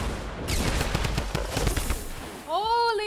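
Rapid automatic minigun fire and explosive bursts from rockets sound in a Fortnite Battle Royale match, loud and dense throughout, with rising synthetic game tones at the end.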